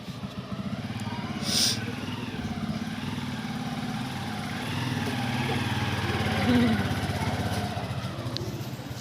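A motorcycle engine hums steadily at close range with a low, throbbing drone, rising slightly as the bike moves along with a rider aboard.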